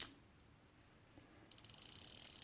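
A Zebco 733 Hawg fishing reel has its drag tightened, giving a quiet pause and then a fast run of close, crisp ratcheting clicks that grow steadier and louder.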